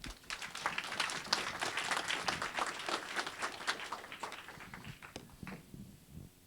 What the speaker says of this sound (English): would love to give a round of applause to Whitney.